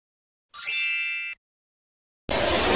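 A bright bell-like notification ding rings out once and fades over about a second, followed after a pause by a burst of broadband noise.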